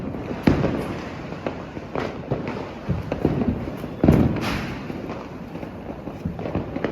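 Leo brand firecrackers burst in a Diwali family celebration outdoors, sharp cracks and thuds popping irregularly one after another at moderate distance over a steady background hiss.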